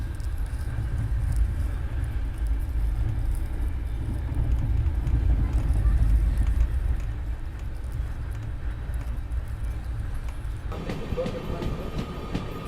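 The Ahmedabad Double Decker Express train approaches on an Indian railway line, heard from another moving train as a steady rumbling roar with rail clatter that swells midway and then eases.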